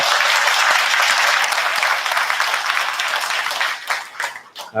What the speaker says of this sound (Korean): 우리 신부님들 오셨는데요. 환영의 박수 드립니다.